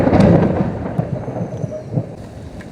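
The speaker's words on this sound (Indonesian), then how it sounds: "Petirnya keras banget itu." Loud thunder rumbling during a storm, a heavy, close crack that rolls on and fades over a few seconds, with rain-like noise beneath.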